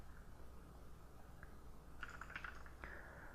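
A computer keyboard is typed on while a Unity C# script is written, with a few soft, quick keystroke clusters late in the moment over a faint steady room hum.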